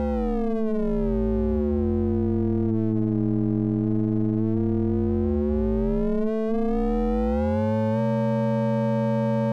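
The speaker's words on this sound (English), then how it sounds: "send one sine wave through a VCA and send the other one to the VCA control voltage input. This is amplitude modulation." Two synthesizer sine waves, one sent through a VCA and the other driving the VCA control voltage, giving amplitude modulation heard as a continuous electronic tone whose sidebands sweep and glide up and down, loud and alone.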